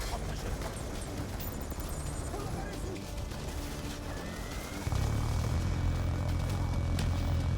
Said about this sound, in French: Mais non c'est un hélicoptère, mais je pensais que c'était un avion.